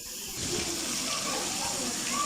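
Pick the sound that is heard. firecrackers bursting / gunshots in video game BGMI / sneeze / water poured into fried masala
water poured into fried masala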